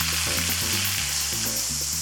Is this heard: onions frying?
yes